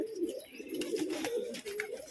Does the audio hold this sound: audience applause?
no